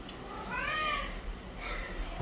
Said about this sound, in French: j'ai un petit chat qui miaule